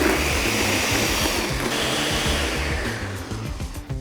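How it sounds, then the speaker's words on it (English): A blender whirs steadily as it blends a peanut butter smoothie with milk and ice. The motor runs loud and continuous, then eases slightly near the end. "In with our milk, a handful of ice. And then we blend."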